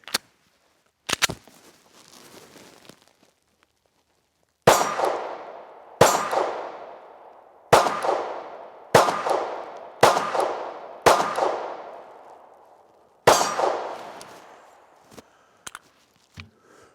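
A Springfield Armory XD-S Mod.2 OSP 9mm pistol fires a string of sharp, loud shots at uneven intervals, each crack ringing out and decaying, with a couple of fainter reports near the start and end.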